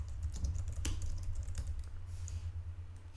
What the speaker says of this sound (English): you can type in your text